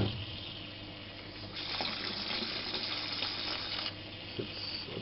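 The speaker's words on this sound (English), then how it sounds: "I'm injecting air into the water with the help of water flow." Water pours steadily in an aquaponics system, a continuous rushing gush that injects air into the tank, close and loud, swelling briefly in the middle with no speech.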